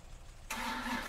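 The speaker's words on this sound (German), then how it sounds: "erstmal Motor zu starten und die Handbremse zu lösen" A truck engine in the Spintires off-road driving game cranks and catches abruptly partway through, then settles into a steady, loud idle hum after a quiet stretch.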